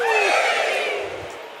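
A crowd at a Games Done Quick speedrun marathon cheers and yells loudly, with a rising whoop at the start that fades gradually over a second or so.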